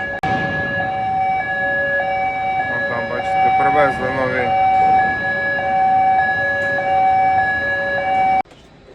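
A loud, steady siren wail holds a constant pitch throughout, with a person speaking over it briefly, before it cuts off abruptly near the end; heard during agricultural plough transport after harvest.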